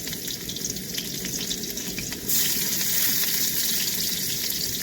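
Onion dropped into hot oil in a wok sizzles and fries with a loud, dense, continuous crackle that swells sharply partway through, close and alone.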